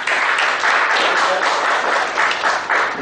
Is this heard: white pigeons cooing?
no